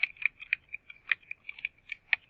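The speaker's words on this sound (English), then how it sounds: "I can start typing that in." Quick, light taps of typing on a computer keyboard, irregular clicks close to the microphone in a quiet room.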